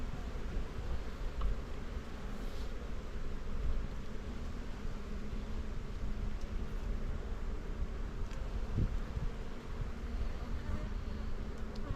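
Honeybees buzz in a dense, steady drone while being set into the middle of a brood box during a move to a new apiary, the hum close and continuous with faint rustling throughout.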